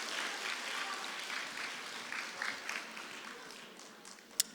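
A church congregation applauds after a testimony, producing a faint, even wash of clapping from a distance that holds steady and then fades, with one sharp click near the end.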